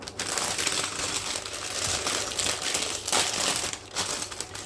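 A plastic bag of Lego pieces crinkles and crackles as it is torn open and handled, close and continuous with bursts of sharper rustling.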